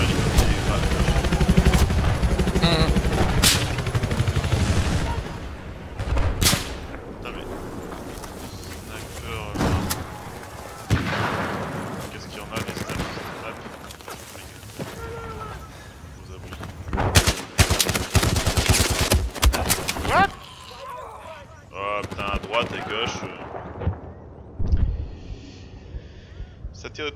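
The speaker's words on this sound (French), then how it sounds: "Je tire la RPK quand même, j'aurais touché là!" RPK light machine gun fire in Battlefield 4, bursts of automatic shots and sharp impacts scattered across a busy battle soundscape, loud and close, with players talking throughout.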